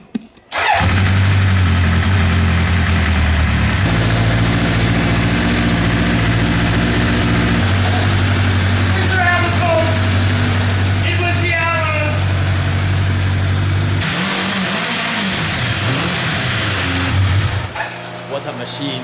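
A Kawasaki Ninja motorcycle engine runs loudly up close, holding a rough idle, shifting pitch in steps and blipping through revs, with a brief snarling rise and drop near the end and no talking.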